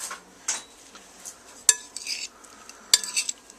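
Potato salad being gently mixed with red wine vinegar in a bowl, a few soft scrapes and light clinks of a utensil against the dish, sparse and close, with no voices.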